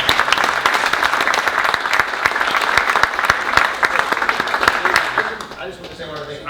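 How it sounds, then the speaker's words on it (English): An audience at a sports legends panel gives loud, sustained applause that tapers off near the end, with a voice speaking through the final moments. "Give Jason a little round of applause."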